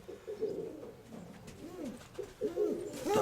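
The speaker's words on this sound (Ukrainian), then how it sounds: "Тут сивий голубок." Grey pigeons in a loft coo in low, rounded, repeated calls, several overlapping phrases at close range with no talking.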